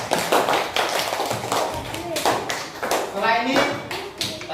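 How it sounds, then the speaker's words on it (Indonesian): A group of schoolchildren applauds in a classroom, giving uneven, close claps and taps with voices mixed in. "Terus beri tepuk tangan untuk kelompok 3."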